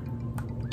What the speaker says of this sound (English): I'm gonna put the remaining fragrance